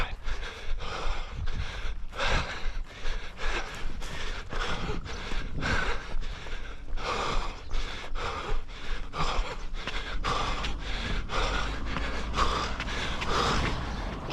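Heavy, rhythmic panting from a runner on a long eight-mile run, close and loud, each breath a steady gasping pulse repeating throughout with no talk.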